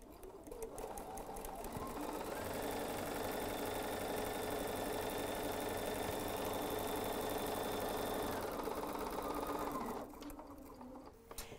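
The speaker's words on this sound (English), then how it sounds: "So let's get started sewing directly on that line." BERNINA 770 Quilters Edition sewing machine stitching a quilt along a marked line, a steady close motor whir that starts up, runs evenly for about eight seconds, then stops.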